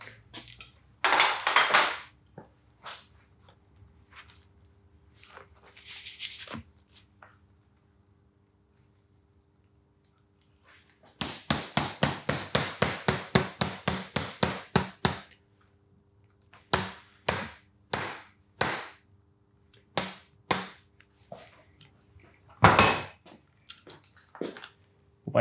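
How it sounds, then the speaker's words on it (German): Metal hammer blows ring out while fuel lines are fitted on a car in a workshop: a rapid run of about twenty evenly spaced strikes, then slower, separate loud hits, with quiet pauses between. "Und jetzt können wir wieder hämmern."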